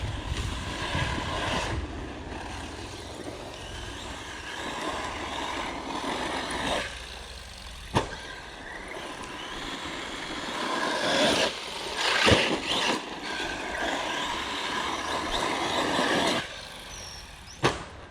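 A Kagama 4S 1/10-scale RC car driving under throttle control, a thin buzzing motor whine rising and falling in surges with a few sharp clicks and knocks, moderately distant over outdoor background noise.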